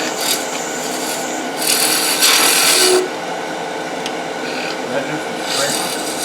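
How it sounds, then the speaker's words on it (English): A round nose scraper cuts wood on a lathe while turning a threaded acorn box, giving a steady close rasping scrape with brighter bursts partway through. Talk runs faintly underneath. "It's a round nose scraper."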